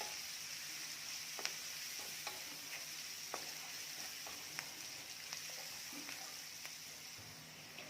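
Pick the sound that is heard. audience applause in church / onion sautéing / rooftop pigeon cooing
onion sautéing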